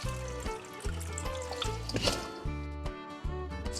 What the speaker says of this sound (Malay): Ni kita start basuh. Basuh rendam dulu.